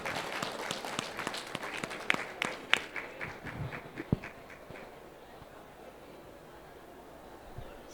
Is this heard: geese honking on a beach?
no